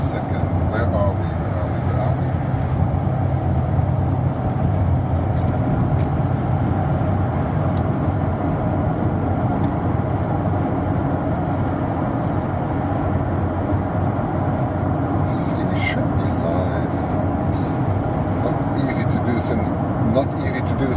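Steady, enveloping road and engine drone inside a moving car, a low broadband rumble that holds even throughout, with faint voices murmuring underneath.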